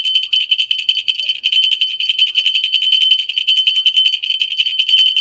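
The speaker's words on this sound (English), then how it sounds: "This is a totally different bell. Very heavy in metal," A heavy metal bell rings with bright, sustained shimmering tones, struck repeatedly in a steady rhythm, close and fairly loud with no voices over it.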